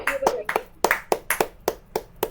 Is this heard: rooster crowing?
no